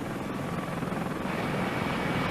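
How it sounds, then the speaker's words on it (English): Steady, loud rotor thump and turbine roar from Navy Black Hawk helicopters flying relief supplies after an earthquake, a continuous close-up drone with no other sounds. "The Navy also flew in 2 Black Hawk helicopters carrying several tons of emergency relief supplies."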